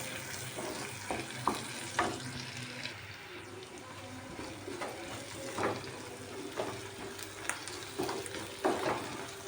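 Green chillies and curry leaves frying in oil in a pan for a prawn and gongura curry, a steady sizzle broken by several scraping stirs of a spoon, close and fairly quiet, with no voices.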